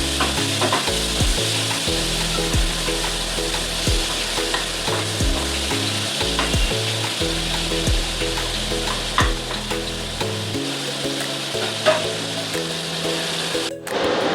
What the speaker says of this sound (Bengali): এরপর ওই তেলেই আমি চিংড়িটাকেও ভেজে নেব নুন হলুদ মাখিয়ে।